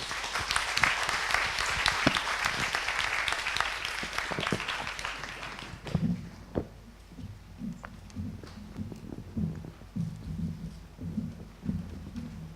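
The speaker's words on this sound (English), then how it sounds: "Please join me with a round of applause for them." Audience applause for the panelists at a panel discussion at Singapore Zoo, a dense broad clapping that fills the first six seconds, then thins to scattered claps and low murmurs.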